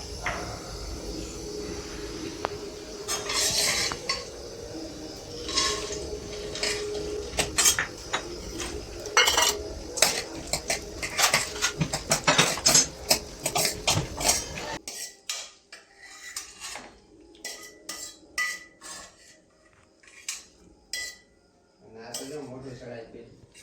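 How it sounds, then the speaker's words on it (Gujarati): Figs and dates roasting in ghee in a pan, stirred with a metal spoon: steady close scraping and clinking against the pan with a soft background hiss, easing into sparser scrapes and taps toward the end. "અંજીરને આપણે થોડાક શેકી લેવાના છે એટલે કડક હોય ને તો ઘીમાં ઢીલા પડી જાય ત્યારે થોડીક વાર શેકવાનું"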